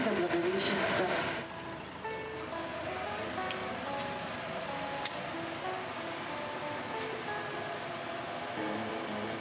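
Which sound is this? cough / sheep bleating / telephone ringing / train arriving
train arriving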